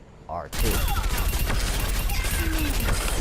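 An Overwatch hero's primary weapon fires continuously in rapid automatic gunfire, loud and sustained right after a brief quiet moment with a faint voice.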